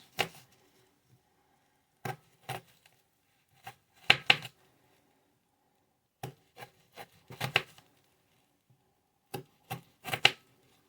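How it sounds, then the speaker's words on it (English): Knife finely chopping onion on a cutting board while making homemade sausage rolls, heard as short bursts of quick close taps separated by pauses. "You will get fine cut onion"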